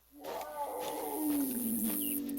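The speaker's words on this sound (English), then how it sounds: "We got a mountain lion who's not real happy with us." A single loud mountain lion roar in a video game, a low, drawn-out growl that rises and then slowly falls, with nothing else around it.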